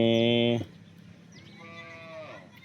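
A local Banaskantha cow in a cattle shed gives one loud, close, sustained moo, followed by quieter barn noise and a fainter second low call.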